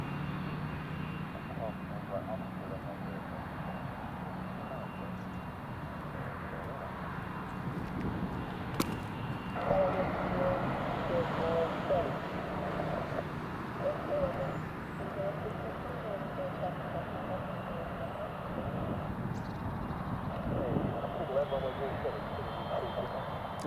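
Loganair aircraft taxiing at Newcastle International Airport, a steady low engine rumble and whine held throughout at moderate distance, with people talking over it.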